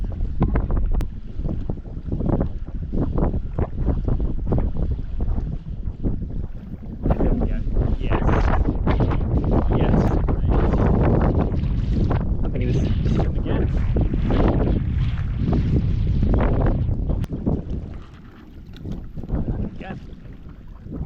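Strong wind buffets the shore of a reservoir, roaring loud and close across the microphone in sustained gusts with continual rumbling, easing only briefly near the end.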